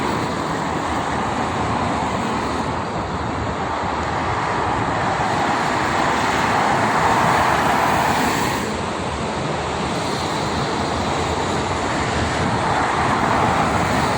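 Heavy morning traffic with many trucks on the Jakarta-Cikampek toll road makes a steady, close roadway roar. Broad swells rise and fall as vehicles pass, with no speech over it.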